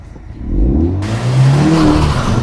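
A 2014 Ford Fiesta ST with a small engine and six-speed gearbox accelerating hard during a 0-60 run, the engine rising loud and close after a quieter start.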